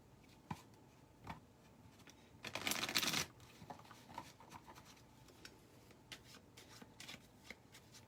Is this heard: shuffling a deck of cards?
yes